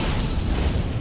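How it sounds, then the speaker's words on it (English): Blood Flame Talons blasts in Elden Ring, a Dexterity/Faith pyromancy build: a dense, rumbling fiery burst that sustains briefly as a heavy low boom. "So it is just going to be Blood Flame with those explosions."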